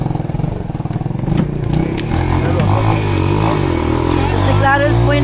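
Motorcycle ridden on a road in Siargao, its engine humming and revving steadily at close range with some clatter, while people talk faintly in the background.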